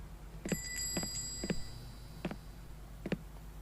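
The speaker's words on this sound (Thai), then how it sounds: "มีกระดิ่งด้วยกริงหรือเปล่า" A shop door bell in the video game The VHS Paradise, set in a tape rental store, rings in about five quick bright dings spread unevenly over a quiet background.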